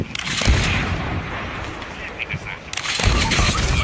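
Rapid bursts of gunfire in the video game Call of Duty crackle and boom amid noisy background action, with a voice speaking over part of it.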